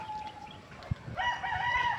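A rooster crows nearby, a drawn-out cock-a-doodle-doo rising after a brief thump, with faint clucking hints underneath.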